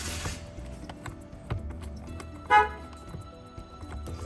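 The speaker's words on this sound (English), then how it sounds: "Horn works, so that's a good sign." A Toyota Tundra car horn sounds once in a short, clear honk partway through, close by, amid quiet workshop handling noise during steering wheel work.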